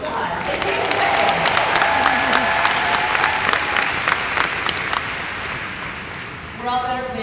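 Lively applause from a crowd at a Mary Kay seminar, dense clapping mixed with cheers and whoops; a voice begins speaking as the clapping tapers off at the end.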